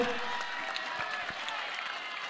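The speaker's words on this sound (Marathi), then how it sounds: "टाळ्या वाजतात, चिट्ट्या वाजतात, प्रोत्साहित केलं जात आहे." A crowd at a cricket final (MPL 2025, Saiba B vs Jivdani Mauli) claps and whistles in a steady, dense wash of applause that holds for the whole stretch, with faint cheering mixed in.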